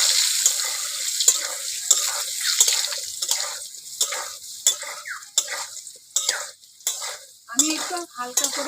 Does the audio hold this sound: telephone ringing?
no